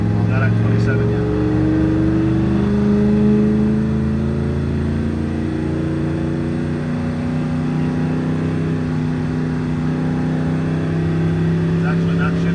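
A car pulls away in first gear (D1), its engine revving upward in rising pitch and then holding at a moderately loud, steady drone. A voice talks over it at times.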